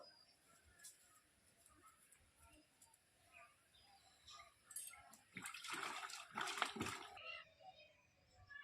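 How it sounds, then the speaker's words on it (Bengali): A whole cauliflower is washed under water, heard as a faint trickle and then a louder splashing rush for a few seconds, with faint bird calls in the background. "এবার আমি ফুলকপিটা ধুয়ে নেবো"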